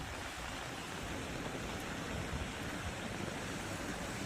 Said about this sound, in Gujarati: રાજકોટના લોધિકા તાલુકાના ગ્રામ્ય વિસ્તારોમાં સાંજે ધોધમાર વરસાદ પડ્યો